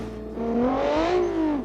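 A GT car engine in a racing video game revs up and then eases slightly, a smooth, steady whine that is loud and close for under two seconds.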